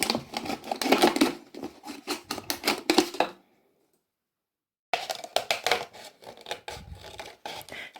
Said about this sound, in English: use your scissors, and then once you've got a little hole in there, you can stick your blade in